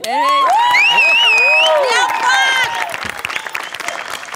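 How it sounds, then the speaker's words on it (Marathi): A Marathi comedy show studio audience whistles loudly and cheers for the art department, long piercing whistles rising and falling over a roar of clapping that settles into scattered applause. "ही शिट्टी आर्ट डिपार्टमेंट साठी आहे."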